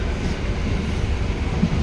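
Steady low rumble and rush inside a moving passenger train running between Katpadi junction and Tiruvannamalai, continuous and even with no voices.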